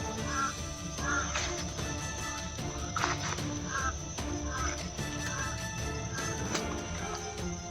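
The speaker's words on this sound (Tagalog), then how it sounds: "Boses ng uwak." Crows caw repeatedly in harsh, rhythmic calls over a dense, steady background of noise and music.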